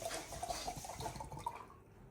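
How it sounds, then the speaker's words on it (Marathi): Water poured from a metal pot, a steady splashing trickle with faint drips that tapers off toward the end, close and fairly quiet with no talk. "एक तांब्यावरून पाणी निघलेलं घ्या"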